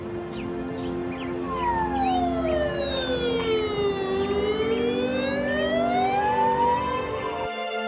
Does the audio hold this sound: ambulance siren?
yes